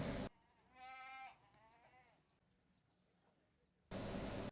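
A three-legged goat bleats close by, one wavering cry followed by a shorter, weaker one, set between bursts of loud hissing noise at the start and end.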